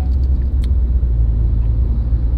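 Steady low engine rumble inside a moving car, a continuous drone with faint higher rattles, heard alone with no talking.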